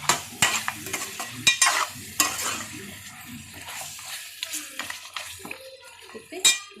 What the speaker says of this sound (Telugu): 1 స్పూన్ కారం, 1 స్పూన్ సాల్ట్, 1/2 స్పూను పసుపు వేసి మంచిగా తిప్పుకోండి